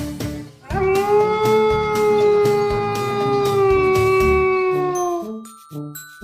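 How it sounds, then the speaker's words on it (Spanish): A single wolf howl rises and holds one long, steady, mournful tone for several seconds before falling away. It is loud and close, with soft rhythmic taps underneath and a brief chime at the end. "Ese es el sonido del lobo."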